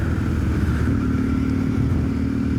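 A 1991 Yamaha Super Tenere motorcycle cruising on a road, its engine droning steadily and fairly loudly under wind rush, heard from the rider's position.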